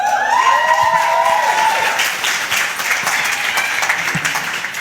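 Audience applause at a 2022 gala, sustained crowd clapping under a sliding electronic tone or feedback, steady and fairly loud throughout.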